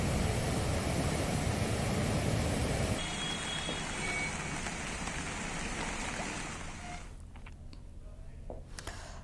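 Heavy monsoon rain falls in hilly country, a dense steady roar that is loudest at first, then eases to a softer wash of rain with low rumbling underneath.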